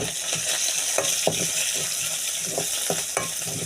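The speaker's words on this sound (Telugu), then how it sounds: "పచ్చిమిర్చి, వేసుకోవాలి." Green chillies frying in a pan while octopus curry is cooked, a steady sizzle with several soft stirring scrapes and clinks at irregular intervals, close and alone.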